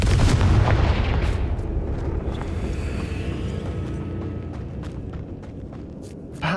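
Confringo blasting spell going off in the Hogwarts Legacy video game, a loud booming burst with a deep rumble at the start, then a long rolling echo that fades over several seconds in a cavernous catacomb.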